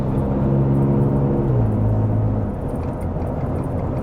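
A Ford F-150 with the 3.5 EcoBoost engine and an AWE exhaust accelerates hard to pass a truck, its steady loud exhaust drone shifting down in pitch partway through, heard from inside the cab with no talking.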